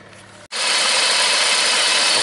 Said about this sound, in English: now engine is running even badly